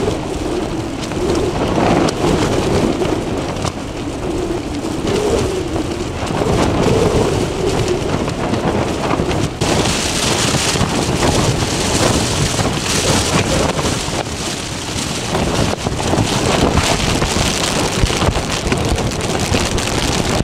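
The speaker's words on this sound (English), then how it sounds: "it is gusting at 56 miles an hour" Strong wind roars and buffets continuously, gusting hard at 56 miles an hour beside a lake on Bow Fell, with a constant rushing noise and heavy microphone buffeting throughout.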